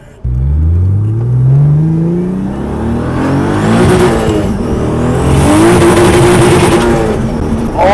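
A 700hp turbocharged BMW E36 revs hard with its wheels spinning, a loud, close engine roar climbing and holding at high revs with rising harmonics and tyre noise throughout, no talking.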